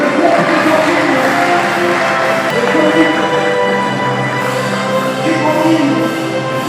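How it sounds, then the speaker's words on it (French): An audience at the Congo Awards ceremony applauds loudly and continuously while an honoree is received, with crowd cheering and scattered voices mixed into the sustained clapping from start to finish. "On les reçoit sous vos applaudissements."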